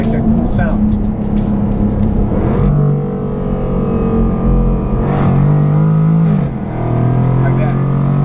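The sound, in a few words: car engine hitting the rev limiter and shifting up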